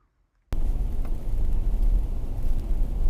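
Lexus LX470 (Land Cruiser 100, UZJ100) cruising along, a steady low engine and road rumble with wind noise that starts abruptly and holds at a constant level, no talk.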